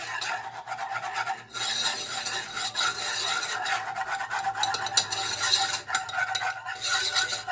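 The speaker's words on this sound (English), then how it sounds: "I'm just going to whisk it until it's smooth." A whisk beats flour into melted fat for a gluten-free vegan gravy, making a continuous close rasping scrape against the pan with a rhythmic, steady texture throughout.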